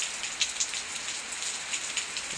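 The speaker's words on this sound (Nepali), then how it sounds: "अँध्यारो धँध्यारो भएर यो पानी परिसक्यो।" After the sky darkens during Dasain, rain pours down as a constant, close hiss of drops striking surfaces, with scattered sharper splats and no one speaking.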